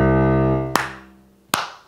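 Two sharp, loud hand claps land evenly spaced to keep time during a beginner piano lesson, the first cutting across a sustained piano chord as it fades, the second following after a short gap.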